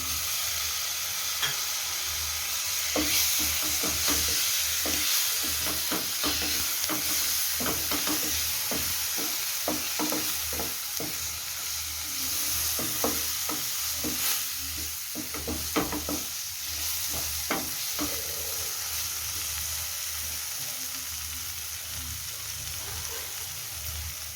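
Chopped tomatoes fry and are stirred in a pan for a spiced vegetable bhurji, with a continuous sizzle and repeated close scraping strokes of a spoon over about twenty-four seconds, with no voices.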